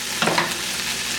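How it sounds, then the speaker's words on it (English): Onions and hominy fry in a pan, a steady close sizzle with a brief scrape of stirring near the start, no voices. "I'm going to go ahead and add our hominy. And continue to cook this down."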